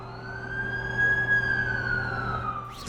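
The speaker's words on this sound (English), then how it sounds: "That's the ambulance I called." An ambulance siren in a Spider-Man video game wails and sweeps steadily over a low engine rumble, loud and sustained for the whole stretch.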